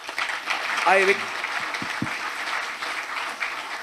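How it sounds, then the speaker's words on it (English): Audience applause at a formal gathering welcoming a chief guest, a fairly steady wash of clapping with a brief voice over it. "Let us welcome him with a big round of applause."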